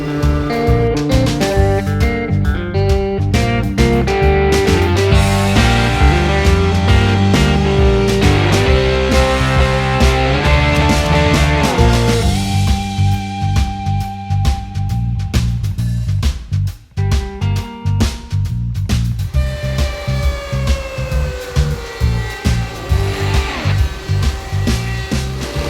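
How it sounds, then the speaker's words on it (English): A router table with a rounded bit rounds the edges of wooden turkey pot call blanks. A loud, whining motor tone shifts pitch as each blank is pushed through, with bursts of cutting noise and no talking. "We're gonna hit them first on the router table with a rounded bit"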